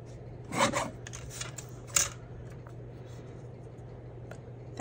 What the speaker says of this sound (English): I'm gonna just trim this down a little bit.